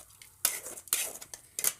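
Metal vessels clink and clatter in a few sharp bursts as fried ginger is tipped from a pan into a dish to cool, with quiet gaps between the knocks.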